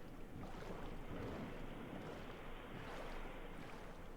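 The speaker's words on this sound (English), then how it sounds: "now we're really heading on to the waves" A boat crossing ocean waves in Minecraft, with a soft continuous wash of water and wind-like rushing that swells gently, faint and steady with no voices.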